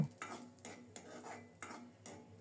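Panch phoron whole spices with a broken dried red chilli being stirred in a little hot mustard oil in a karai, giving a quiet clatter of spoon against metal in four rhythmic scraping strokes over a faint sizzle, with no talking.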